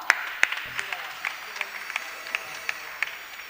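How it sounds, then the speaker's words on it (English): Scattered hand claps from a small audience at a morning session of a youth festival in Goa, with individual claps ringing out at an uneven, sparse rhythm rather than building into full applause. "Let's clap for her."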